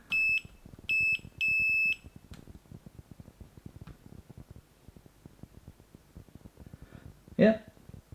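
Three clear electronic beeps from a multimeter on continuity test as the probes touch together during repair of a faulty Gunson Superstrobe timing light, two short tones then a longer one, followed by quieter background noise.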